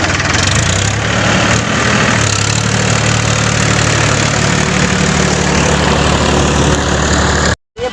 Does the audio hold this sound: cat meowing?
no